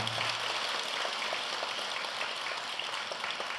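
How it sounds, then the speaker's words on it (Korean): An audience at a Buddhist dharma assembly at Jogyesa temple applauds steadily, a dense patter of many hands clapping with no break. "큰 박수 부탁드립니다"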